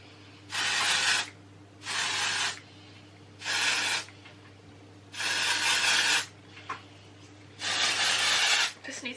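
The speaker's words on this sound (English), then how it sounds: "And then I'm going to go in with the Dry Texture Spray." Five separate bursts of dry texture hair spray hiss close by, each lasting about a second, spaced by short pauses over a low steady hum.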